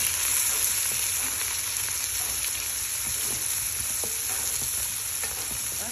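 Chopped garlic and onion fry in a pan, a steady close sizzle lasting the whole stretch with light stirring scrapes and no talking.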